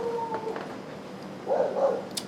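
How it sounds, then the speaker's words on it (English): A dog barks and whimpers in the background, with a few faint yips and a louder pair of barks near the end, all set against a steady low room hum. "I don't know if you can hear the dog barking"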